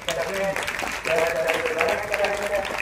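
Students and guests at a school event applaud for an honoured guest, a sustained burst of clapping heard under and around a speaking voice.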